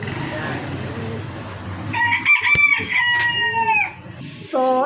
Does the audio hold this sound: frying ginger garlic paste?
no